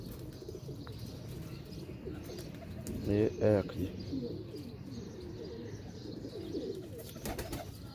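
Pigeons cooing close by in a breeder's loft, soft throaty rolling coos rising in a short burst midway, with faint chirps and someone talking over them.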